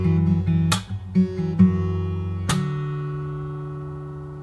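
A fingerstyle acoustic guitar plays ringing chords over low bass notes. Sharp percussive string slaps punctuate the playing a few times before a final chord rings out and slowly decays.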